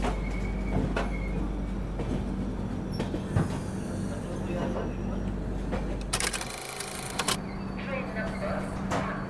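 Passenger train 15128 Kashi Vishwanath Express pulling out of Lucknow Charbagh railway station at night, heard from on board as a steady rumble of wheels with brief squeals and clanks, with voices in the background.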